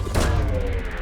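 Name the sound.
probe launch in Mass Effect 2 video game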